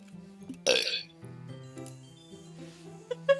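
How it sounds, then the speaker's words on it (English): A single loud, abrupt burp rises sharply out of a quiet background, with soft speech-like sounds and light clinks around it. "Burping."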